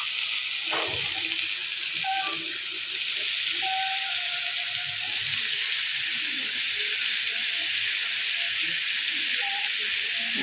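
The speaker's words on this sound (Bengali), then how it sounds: "এখন আমি আস্তে আস্তে পেঁপে কুচিগুলি কড়ার মধ্যে" Chopped raw papaya going into a hot wok already holding salt, onion and green chilli gives a steady, loud frying sizzle and hiss that runs through the whole stretch, with a few faint clinks over it.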